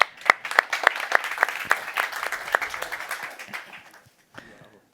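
A burst of audience applause at a Bitcoin conference in Lugano, loud and rhythmic at first, gradually thinning out and fading to a few scattered claps.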